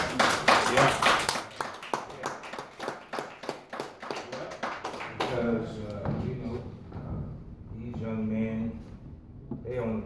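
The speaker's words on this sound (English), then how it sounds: "Somebody's ready to clap their hands" Rhythmic hand clapping from a church congregation, steady and even, for several seconds before fading under voices and singing.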